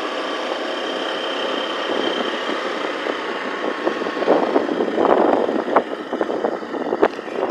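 Automatic motorcycle engine running steadily while riding, a continuous mid-level drone with slight revving swells toward the end and no talk.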